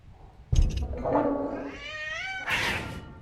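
In the video game The Radio Tower, a cat meows once, loud and drawn out with a rising, wavering whine, after a short thump; a close, harsh caterwaul lasting about three seconds.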